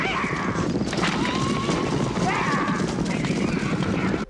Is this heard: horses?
yes